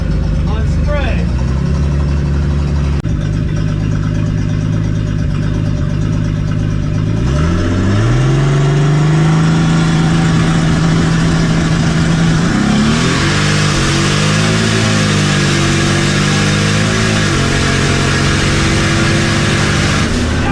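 A drag race car engine on spray roars loudly at a 7.0 index race against a Gen 3 Camaro, rising through several revving sweeps and holding a heavy, sustained drone throughout, with a voice faintly underneath.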